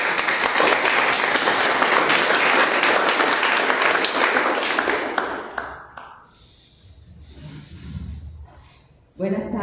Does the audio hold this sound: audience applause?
yes